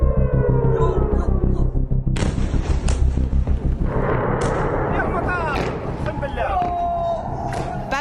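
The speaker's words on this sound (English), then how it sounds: "Ballistic missiles tearing through the night sky." Ballistic missiles fired by Iran at Israel at night make a loud, continuous roar with heavy rumbling and repeated sharp blasts, dense and close throughout.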